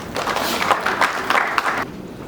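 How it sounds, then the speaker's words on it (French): An audience applauds a speaker, the vice-president of the national press union of Congo, at a formal gathering: a loud, steady patter of many hands clapping that fades out at the end. "On applaudit pour lui."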